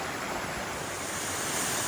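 A small cascading waterfall in Tunnel Ravine roars as a close, steady rush of falling water, even and unbroken for the whole stretch with no voices.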